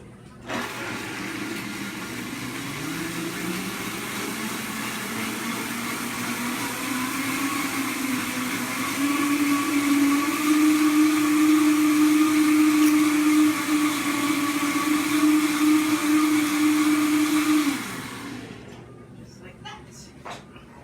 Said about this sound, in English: And we're just going to blend.